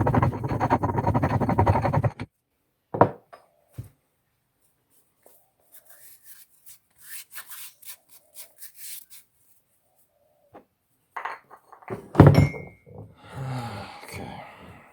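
Dried herbs are ground into powder in a small grinder, starting with a loud buzzing grind of about two seconds. Scattered rubbing, tapping and scraping of the powder follows, nearby and without talking.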